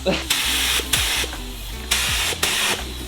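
A spray gun lays primer inside a car engine bay, likely a Mazda RX-7 being primed. Several loud bursts of airy hiss start and stop over a low steady background hum, with short pauses between passes.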